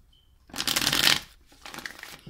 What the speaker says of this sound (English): I'm going to keep shuffling here.